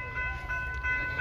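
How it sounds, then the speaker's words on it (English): Train passing at White Rock on the BC waterfront, a steady low rumble of rail cars rolling by with faint high squeal tones, continuous and fairly close, no talk. "Ayan, at may dadaan pang train."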